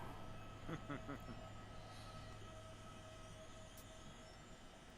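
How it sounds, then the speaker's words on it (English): An electrically braked train in the Train Simulator game, producing a steady low hum and drone under rolling rail noise, with a few faint clunks early on and a soft high tone later. "By the sounds of it, this train has electric braking as well."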